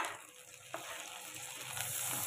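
Chopped tomato dropped into a pan of frying ginger and garlic, a sudden hiss as it hits the hot oil, then a steady close sizzle with light stirring and no talk.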